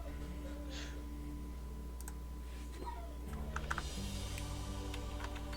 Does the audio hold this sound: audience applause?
no